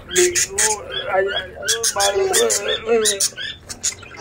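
A young parrot chick just out of a clay pot squawks in loud, harsh bursts close by, mixed with excited chatter and other bird noises in a busy outdoor yard.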